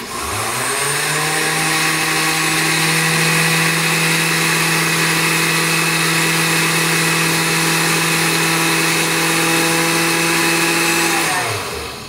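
A kitchen blender running on its liquefy setting, spinning up with a loud steady whine and motor drone for about eleven seconds, then winding down at the end.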